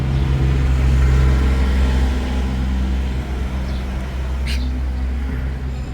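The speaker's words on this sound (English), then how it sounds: "Let's wait till this truck thing goes by." Truck passing along a street in historic downtown Panama City, Florida, a loud low engine drone close by that eases slightly as it moves on, with a bird chirp faintly above it.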